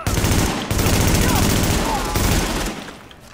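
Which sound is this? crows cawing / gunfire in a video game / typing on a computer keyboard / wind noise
gunfire in a video game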